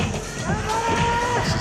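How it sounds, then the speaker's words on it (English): A crowd at an IFSC World Cup combined climbing final in Morioka, Iwate, raising a drawn-out shout of encouragement, moderately loud and sustained over the arena's background noise. "Huge shout of gamba from the crowd there."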